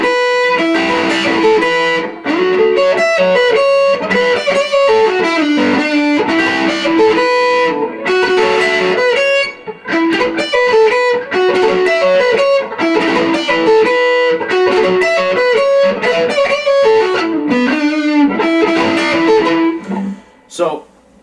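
A distorted electric guitar plays a choppy, palm-muted riff with sustained chords, loud and continuous, with a brief pause near the end.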